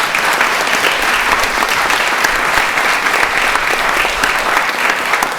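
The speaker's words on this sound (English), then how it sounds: "So let's give him a round of applause" A ceremony audience gives the cake baker a round of applause, loud sustained clapping from many hands that fills the whole stretch.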